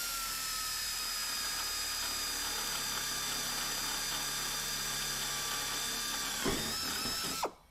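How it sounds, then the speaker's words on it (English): A power drill whines steadily at high pitch as it bores through sheet metal into an aircraft wing spar, running continuously before a brief bump and cutting off at the end. "and then you're going to go ahead and drill."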